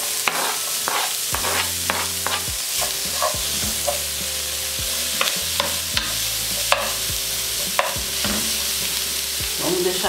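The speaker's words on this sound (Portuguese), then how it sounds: "Vamos deixar aqui um minutinho fritando" Garlic sizzles and crackles steadily in a hot pan, with a spoon occasionally scraping and stirring; no one speaks.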